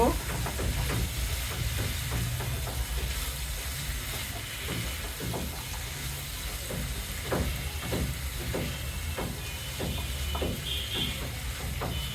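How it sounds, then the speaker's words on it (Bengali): Singara filling seasoned with turmeric and salt fries in a pan under a constant loud sizzle, with a steady rhythm of spatula scrapes and knocks as it is stirred, close up. "এখন আমি এগুলোকে ভালোভাবে নেড়ে নেড়ে কষিয়ে নিব।"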